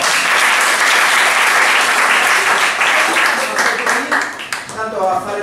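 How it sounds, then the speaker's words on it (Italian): Audience at an improv theatre match applauds loudly and steadily, a thick wash of clapping that thins near the end as voices start talking over it. "In questo modo, un applauso!"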